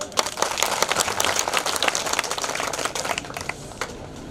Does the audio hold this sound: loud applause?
yes